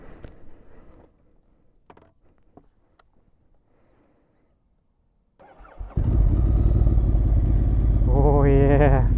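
A 2012 Ducati Monster 1100 EVO with a factory wet clutch cranks and fires up after quiet handling noises, then settles into a loud, steady idle before a short rev climbs and falls.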